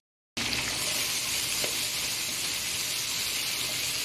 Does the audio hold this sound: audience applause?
no